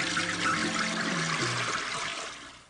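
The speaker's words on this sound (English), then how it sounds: "The message went down the drain, Toad!" Cartoon toilet flush, a close rushing swirl of water that drains and trickles, fading out toward the end.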